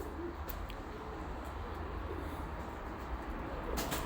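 Pet birds kept by a hobbyist breeder call softly, faint cooing over a low steady background hum, with no talk.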